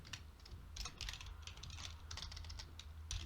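Typing on a computer keyboard during Python coding, a quiet, rapid patter of key clicks in short irregular bursts, heard close and alone.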